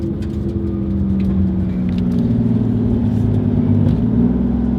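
A Mazda RX-7 FD3S fitted with a 1JZ engine drives off, its steady low engine rumble and whir holding close and loud throughout with no talk.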